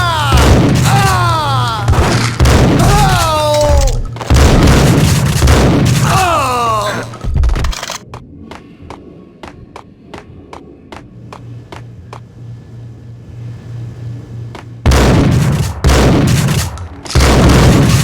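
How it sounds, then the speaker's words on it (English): Bombing explosions and gunfire in the Max Payne video game arrive as heavy booms between bursts of shouting, then a quick series of sharp regular shots rings out in a quieter stretch. "They're bombing us!"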